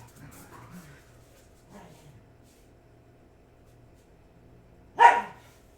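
A single dog barks sharply and close by late at night during a home livestream, a loud lone burst after faint, quiet talk earlier in the clip.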